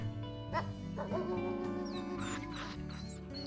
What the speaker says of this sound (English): I'm gonna bark.